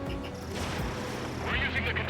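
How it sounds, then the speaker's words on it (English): Anti-air guns fire in the Ace Combat 7 flight game, a dense rumbling barrage of booming shots and crackling bursts that runs steadily throughout at high level, with engine roar beneath. "They've got their anti-air guns aimed right at us."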